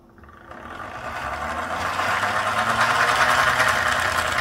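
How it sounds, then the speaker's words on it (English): An electrically powered 3D-printed turbocharger wheel spins up, its whirring hum rising steadily in pitch and loudness from near silence into a loud, dense rushing whine, close by and without talk. "Then I'm gonna power this thing on and see this wheel spin."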